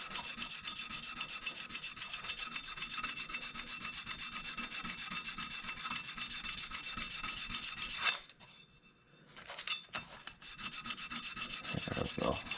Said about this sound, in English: little piece of tiny fine grit sandpaper, and just with my hand, I'm just going to smoothen that out